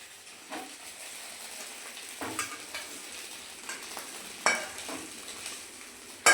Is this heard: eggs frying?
yes